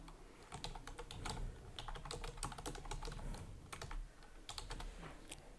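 Fingers type steadily on a computer keyboard, a dense run of close, crisp key clicks with small hesitations, entering a playlist title with no one speaking.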